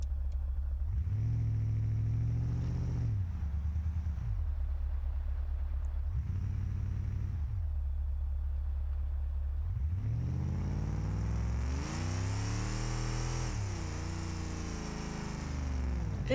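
A custom car engine in BeamNG with no rev limiter: several short rising-and-falling revs, then a long climb to a high, strained, buzzing wail, steady and fairly faint with no talk.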